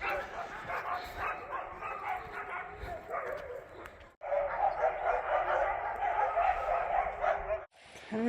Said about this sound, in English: there's a lot of dogs barking down there